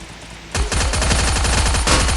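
Rapid automatic gunfire in the Thai-played mobile game Free Fire, a dense run of loud burst shots starting abruptly after a quiet moment and continuing steadily to the end.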